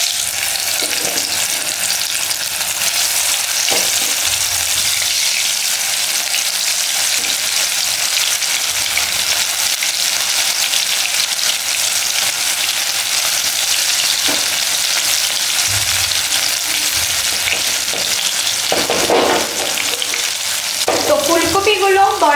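Cauliflower fritters sizzle steadily in hot oil in a pan, a dense continuous frying hiss with occasional scrapes and clinks of stirring, close and loud throughout.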